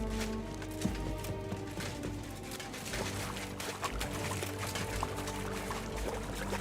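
Footsteps wading through water in Kingdom Come Deliverance 2, continuous splashing and sloshing with a steady pouring quality, heard over game music and ambience.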